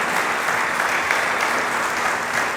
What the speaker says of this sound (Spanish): Dele palmas a Dios del cielo.